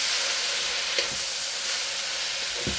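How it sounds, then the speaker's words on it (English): Steady loud sizzling and hissing of lo mein noodles stir-frying in a hot pan, with a few soft scraping stirs of a utensil, no voices. "we're just going to keep on stir frying it"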